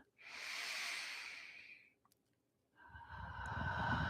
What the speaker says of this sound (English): Take another deep and clearing breath.